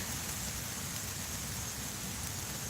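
Rain falls in a steady, even hiss that is continuous and moderately loud, with no voices.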